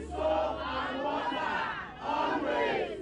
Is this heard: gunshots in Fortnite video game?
no